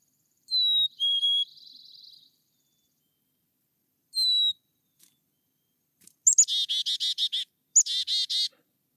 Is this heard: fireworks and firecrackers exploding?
no